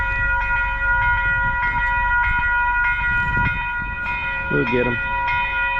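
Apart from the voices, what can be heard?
old wood-burning train locomotive passing southbound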